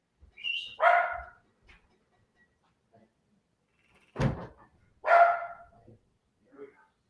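A 17-year-old dog barks twice, a few seconds apart, close by and fairly loud, with a sharp knock-like thud in between and quiet otherwise.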